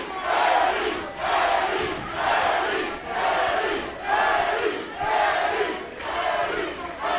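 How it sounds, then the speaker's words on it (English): A fight crowd chants a fighter's name in rhythmic two-part swells, loud and repeated about once per second, many voices together with no commentary over it. "Crowd chanting Eddie Mendez's name."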